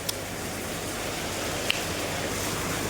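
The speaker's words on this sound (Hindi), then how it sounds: "देखिए कितनी तेज बारिश आ गई है" Heavy rain pouring down outdoors, a dense, steady wash of noise without pause and with no voices.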